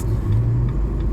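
A turbocharged car's engine rumbles loudly and steadily from inside the cabin, with a low tone rising slightly as it accelerates under throttle.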